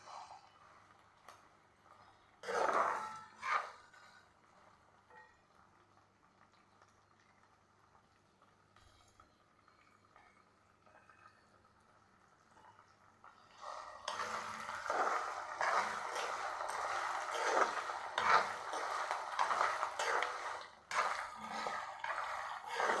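Asafoetida, curry leaves and mustard seeds fry in hot oil, giving a brief loud sizzle burst early on, a quieter simmering stretch, then a sustained, louder crackling sputter in the second half, close by.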